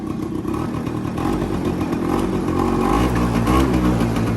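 A Bombardier DS90 quad's small engine idles and runs steadily after being kick-started, a close, rattly putter with a slight rise in revs toward the end.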